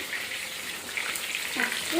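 A whole fish fries in hot spiced oil with a steady, close, crackling sizzle, and faint brief splutters are heard throughout.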